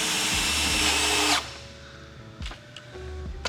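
A power drill drives self-tapping screws into the side skirts of an R32 Nissan Skyline: one loud sustained whine that cuts off, then a few short quieter bursts of the drill, heard close up with no talking.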